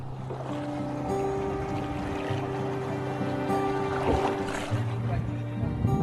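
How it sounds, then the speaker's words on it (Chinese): A small fishing boat out on the water near Zhongshan, its steady motor hum holding level tones over soft lapping and wash of water, close by and continuous. "每天他都会驾着小船下网捕鱼。"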